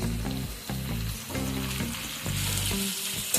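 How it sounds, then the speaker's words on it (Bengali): Chopped eggplant fries with spinach and mixed vegetables in a pan, giving a loud, close sizzle broken by repeated scraping stirs in a loose rhythm. "সবজিগুলো যখন অল্প ভাজা হয়ে যাবে সেই সময় এখানে আমি বেশ কিছু কেটে রাখা বেগুন অ্যাড করে দিচ্ছি"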